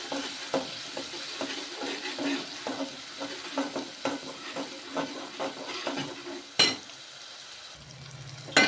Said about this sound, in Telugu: ఇది కూడా కొంచెం నూనెలో వేగనిద్దాము.